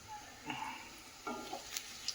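Onions fry in a pan with a soft, quiet sizzle, broken by a few short scraping stirs of a utensil and light clinks.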